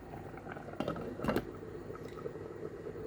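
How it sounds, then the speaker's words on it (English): Water for vermicelli rice bubbles and simmers in a pot, a soft continuous churn with a couple of brief clinks partway through. "Now once it's boiling,"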